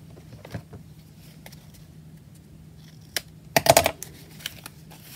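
Scissors snip through cardboard toppers, a short cluster of crisp cuts after a few isolated clicks, set against a quiet room hum.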